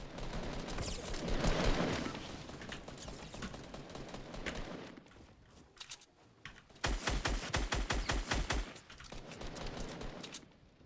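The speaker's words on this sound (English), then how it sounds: "We're still getting shot from the houses." Rapid gunfire in Fortnite Battle Royale, dense bursts of automatic shots with a louder run of sharp, evenly spaced cracks near the end and short lulls between.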